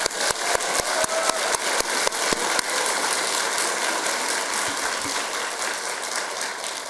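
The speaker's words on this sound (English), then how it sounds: "Let's do a big round of applause." Audience at an awards ceremony giving a big round of applause, with loud, dense clapping like heavy rain and a few sharp, distinct claps standing out early on.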